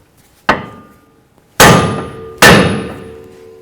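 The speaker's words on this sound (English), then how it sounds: "Next, we're going to hit right here on the knuckle with our hammer." Three sharp metallic clangs from a hammer striking the steering knuckle of an 2008–2012 Jeep Liberty during front axle removal, one lighter hit followed by two heavy ringing blows, each decaying with a short metallic ring, close and alone.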